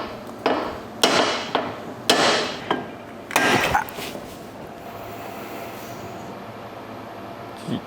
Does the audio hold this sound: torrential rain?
no